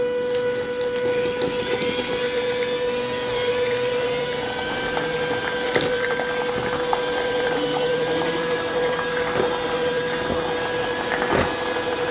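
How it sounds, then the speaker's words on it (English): A cordless handheld mixer beats cake batter with milk in a bowl, giving a steady close motor whine with a constant tone and faint scraping and clicking against the bowl throughout, no talking. "I love this cordless handheld mixer"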